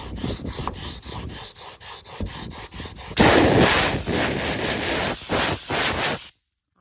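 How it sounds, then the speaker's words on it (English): Abrasive rubbing against the metal body of an El Camino as rust spots are sanded down, a steady scraping rasp with short strokes that grows louder and denser partway through, then stops abruptly. "I need to get these little rust spots down."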